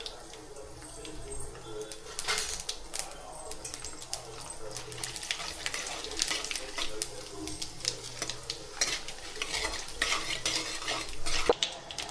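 Mustard seeds, urad dal and chana dal splutter and crackle in hot oil in a pan for a besan sambar tempering. Sharp pops and sizzle mix with metal spoon stirring and scraping, close up and continuous.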